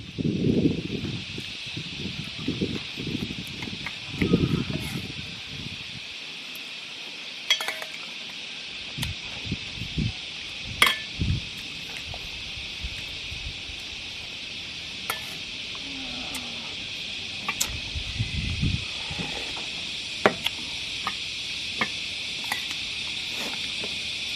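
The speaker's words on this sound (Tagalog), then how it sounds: "Yung maingay po, kuliglig." Steady insect chirring from crickets fills the whole stretch as a continuous high drone, with clattering, stirring kitchen and household noises nearby underneath.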